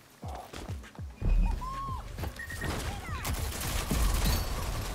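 Gunfire and sharp metallic headshot impacts in the online shooter Rogue Company ring out as a rapid, loud burst of shots and clinks over in-game effects.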